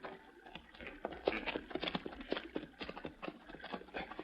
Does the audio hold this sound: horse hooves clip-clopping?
yes